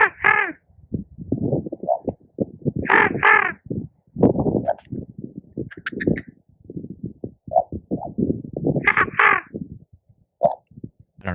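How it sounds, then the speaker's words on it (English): Crows caw loudly and repeatedly nearby, harsh calls coming in irregular bursts and series with brief pauses between them. "The crows are here."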